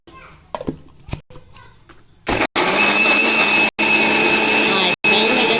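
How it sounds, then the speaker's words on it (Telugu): A mixer grinder grinding masala paste for prawn curry whirs loudly in steady bursts, briefly stopping and restarting a few times, after a short stretch of quiet voices and clatter. "ఇప్పుడు మిక్సీకి వేసుకుందాం"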